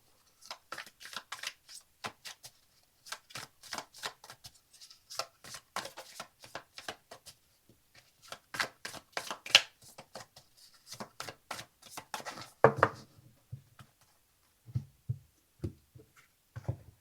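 Tarot cards are shuffled for a four-card reading, producing quiet, rapid riffling and soft slapping in irregular bursts, with a few faint thumps near the end.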